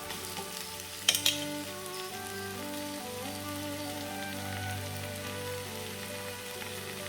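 Tomatoes sautéing in a pan for a healthy gravy, a steady soft sizzle with a pair of sharp utensil clicks near the start, no voices.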